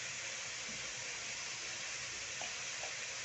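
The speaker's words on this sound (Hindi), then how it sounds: "और कुछ देर अच्छा से भून लेंगे। हल्का सा नमक भी डाल लेंगे ताकि टमाटर भी गल जाएगा," Tomatoes and masala frying in a pan make a steady, close sizzle with constant hiss, with faint stirring clicks near the end and no voices.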